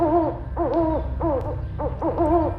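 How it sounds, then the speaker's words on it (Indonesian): An owl hoots in a series of wavering, repeated calls with short pauses, fairly close and clear over a low, steady night-time background hum in a quiet house. "Suara burung malam sesekali memecah kesunyian malam."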